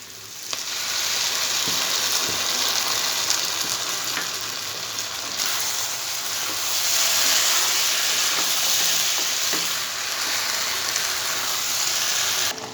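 Soya bean chili gravy, thickened with arrowroot, simmers and bubbles in a pan with a steady close sizzling hiss that swells and eases slightly throughout, with no talking.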